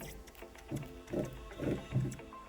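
Faint, uneven scraping and rubbing as a motor part turns, on a Dnepr motorcycle, coming in rhythmic bursts about twice a second over a quiet mechanical hum.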